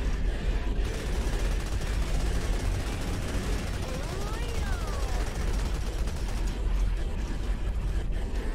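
Dense, continuous rapid-fire minigun gunfire in Serious Sam 4, steady and loud throughout, with a brief whooshing sweep midway.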